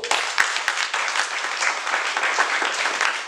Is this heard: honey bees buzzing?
no